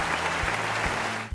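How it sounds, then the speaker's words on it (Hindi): A short burst of dense, steady applause from a studio audience at a riddle show, loud and close, lasting just over a second. "तो अपने लिए तालियां।"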